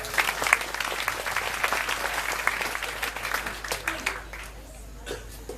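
Audience applause breaks out at a lively comedic talk, steady dense clapping that swells and then tapers off toward the end, with some voices mixed in.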